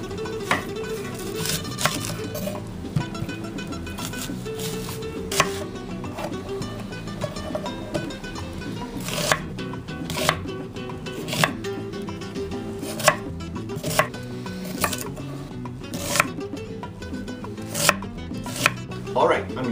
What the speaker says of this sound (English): I'm going to chop up a medium-sized onion and just chop it up pretty coarsely